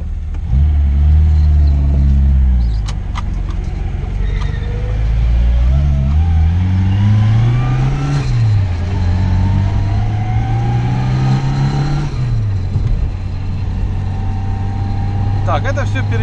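Car fitted with a Solex carburetor accelerating on the road, the engine revving up and down through several rising and falling pulls, loud and close inside the cabin, with steady road rumble underneath.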